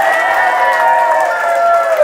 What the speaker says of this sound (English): On the count of three, just make some type of noise, hoot, holler, whatever.